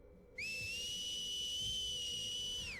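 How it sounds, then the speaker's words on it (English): A loud, piercing whistle sounds alone, starting abruptly and holding one steady high tone for over two seconds before easing off at the end. "There's a loud, piercing whistle."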